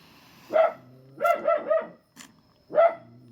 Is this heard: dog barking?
yes